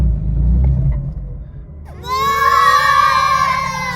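BMW M2 engine held on the brake during launch control, a low idle rumble that climbs into a sustained, loud high rev at about halfway and holds there.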